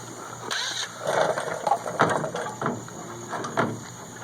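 An impact wrench loosens a bolt on a long-bed quad cab Toyota Tundra in a yard, giving a few short rattling bursts of hammering mechanism against a steady background hum.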